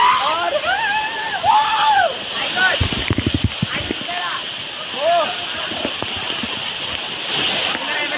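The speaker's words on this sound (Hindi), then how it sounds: "नीचे झरना गिर रहा है" A small waterfall at the Shangrila resort and waterpark, on a hillside with cold water, rushes steadily as a constant wash under people talking and chirping, with a brief run of splashes midway.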